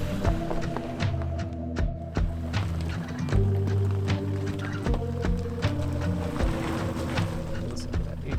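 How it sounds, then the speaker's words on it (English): A 2024 Toyota Hilux GR Sport climbs a steep hill as its A-TRAC traction control engages. A steady low engine drone is broken by repeated clunks, clicks and ticking pulses from the drivetrain. "Listen to that A-Track kick in."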